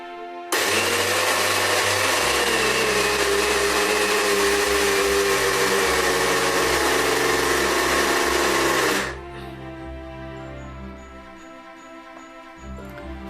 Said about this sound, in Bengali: আমি এখন চালটাকে ব্লেন্ড করে নেব।